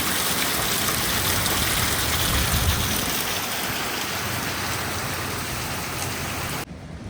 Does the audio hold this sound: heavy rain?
yes